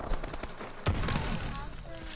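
Rapid automatic gunfire from Call of Duty: Advanced Warfare on Xbox 360, a dense burst of quick shots that picks up sharply partway through, with a voice talking over it.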